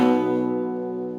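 One guitar chord is struck and left to ring, with the 4th string muted; a rich, sustained tone fades gradually, up close with no voices.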